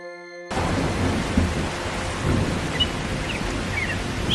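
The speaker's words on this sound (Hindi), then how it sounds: "अरे ये तो बारिश शुरू हो गई।" Cartoon thunderstorm: steady heavy rain hiss with low rolling thunder, beginning abruptly after a short musical tone and continuing loud and unbroken.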